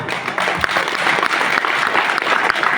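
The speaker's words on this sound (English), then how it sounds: "Give yourself a very big round of applause" Dense, sustained applause from a large crowd, steady and fairly loud throughout.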